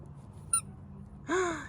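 A squeaky Kong ball dog toy gives two sharp squeaks, a tiny chirp followed by a longer, louder squeal, close and otherwise quiet.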